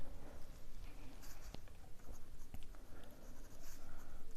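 A pen scratches out a math answer on paper, quick continuous strokes with a few sharper taps, fairly close and alone.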